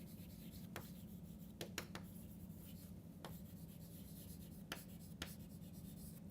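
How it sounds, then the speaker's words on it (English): Chalk or marker strokes on a board during a maths lecture on vectors, a series of short scratchy marks spread across a few seconds, fairly faint over a steady low room hum. "So let me write this,"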